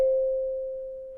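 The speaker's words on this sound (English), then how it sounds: "So next I added this like kalimba sound." A single plucked kalimba sample tone rings out cleanly and decays slowly over about a second, alone in silence.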